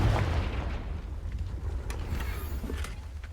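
A Confringo blasting curse in Hogwarts Legacy erupts with a low booming burst that rolls off into a fading rumble, followed by a few faint crackles.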